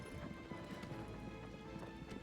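Agro the horse gallops in Shadow of the Colossus, a steady, rhythmic clip-clop of hooves running continuously beneath a dense wash of game ambience, moderately loud and close, with no talking.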